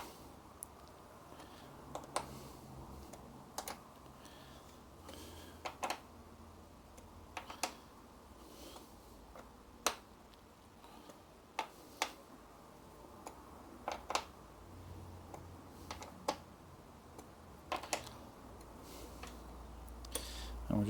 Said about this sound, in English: we'll proceed to tighten them up diagonally